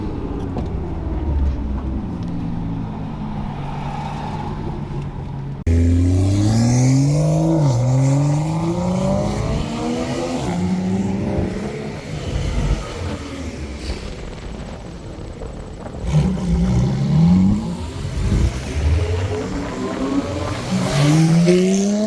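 A 650 hp LS3-engined supercar passes close by, its loud engine roar rising and sweeping in pitch as it accelerates past, then fading before another strong revving pull returns near the end.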